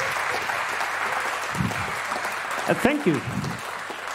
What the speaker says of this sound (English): So please give them a very wild, very warm round of applause.